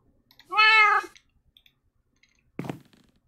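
A cat in the Minecraft modpack All the Mods 8 gives one clear, drawn-out meow, followed after a pause by a shorter, rougher cat sound, alone against near silence.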